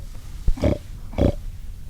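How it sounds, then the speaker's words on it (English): Hogs in the woods, two loud close grunting oinks about half a second apart after a short sharp knock, rough and nasal over a quiet background. "I told you there's a bunch of pigs in here."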